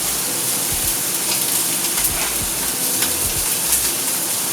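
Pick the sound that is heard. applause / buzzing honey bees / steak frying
steak frying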